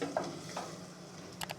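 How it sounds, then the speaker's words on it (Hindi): Nigella and fenugreek seeds roasting in a pan give a soft, steady sizzle, and faint stirring scrapes cut in near the start and the end. No one speaks. "इन सब चीज़ों को भी हम मिक्स करके और बहुत अच्छे तरीके से भून लेंगे"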